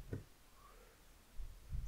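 A computer mouse clicking while navigating Windows 10 settings on a laptop, a few faint, sharp clicks spaced apart in near-silence.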